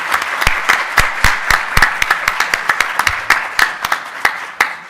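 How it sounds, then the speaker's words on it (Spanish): An academic round-table audience at an open-access journals colloquium claps for the panel speakers, a moderate crowd giving sharp, distinct claps that thin out toward the end. "Muchas gracias a nuestros ponentes, les pido un aplauso"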